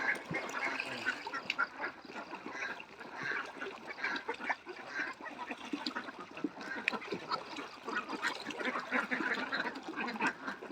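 Laying ducks on an organic free-range farm quack steadily throughout, a dense, busy flock chorus heard close with many overlapping calls and no clear talk.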